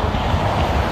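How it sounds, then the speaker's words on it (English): Wind roars steadily on a cold, blustery night in the street, a loud, continuous low rumble buffeting the microphone with no other sounds. "It's very cold and blustery tonight."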